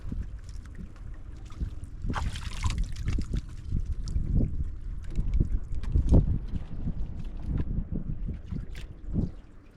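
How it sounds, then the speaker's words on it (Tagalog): Strong wind buffeting a small fishing boat at sea, heard as gusty rumbling wind noise on the microphone with irregular thumps and water knocks against the hull, a hiss of spray now and then. "Lalo na ngayong malakas yung hangin."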